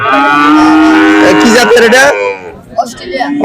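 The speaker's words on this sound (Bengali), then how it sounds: "এই বাছুরগুলো আপনাদের সামনে" A loud, close calf moo on a cattle farm is drawn out over two seconds, followed by quieter rustling and a shorter bleating call.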